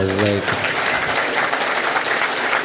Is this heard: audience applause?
yes